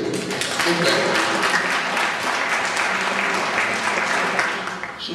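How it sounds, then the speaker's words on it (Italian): A room of attendees at a medical-scientific meeting of the AISA Campania general assembly breaks into full applause, loud and sustained before tapering near the end. "Un applauso,"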